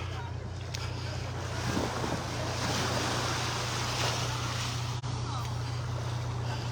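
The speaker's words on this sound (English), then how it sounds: "The tide is coming in." Ocean waves rolling in on a beach in North Naples, Florida as the tide comes in, a steady broad wash of surf with gusts of wind noise on the microphone, continuous and fairly loud throughout.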